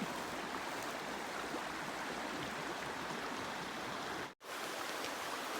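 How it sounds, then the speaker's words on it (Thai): River water rushes steadily at a campsite, a dense, even broadband wash heard close with no voices, broken only by a brief dropout near the end. "เบิ่งแม่น้ำ"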